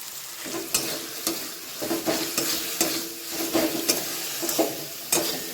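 Ground cumin frying in a pan of chicken curry masala, a steady hiss with repeated scrapes and clinks of a spoon stirring through it, close and fairly loud, no voices.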